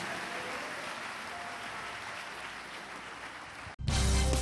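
A church congregation applauds in a steady, moderately loud wash of clapping, which cuts off abruptly near the end as a different, louder sound takes over.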